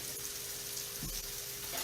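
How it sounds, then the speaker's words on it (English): Mushrooms sizzle steadily in a stainless steel pan as their water cooks off for chicken marsala, a continuous close frying hiss with one soft clack partway through. "I'm trying to cook all the water out of these mushrooms."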